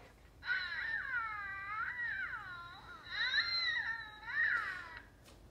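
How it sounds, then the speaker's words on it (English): Toddler baby doll toy letting out a long electronic infant cry when pressed, wavering whimpering wails repeating in two or three bursts over about five seconds, fairly loud and close with no talk. "So when you press, Tyrone makes poo noises, and Brooke does too."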